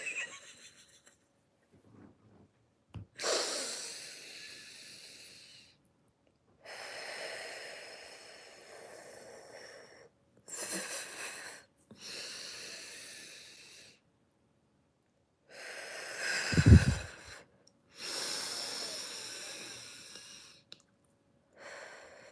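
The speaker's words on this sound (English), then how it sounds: "We will deep breathe in and out." Deep yoga breathing: several long, close inhales and exhales separated by quiet pauses, each breath a soft airy rush, one ending in a sharper snort-like exhale.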